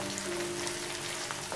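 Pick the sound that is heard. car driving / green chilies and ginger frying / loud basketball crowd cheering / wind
green chilies and ginger frying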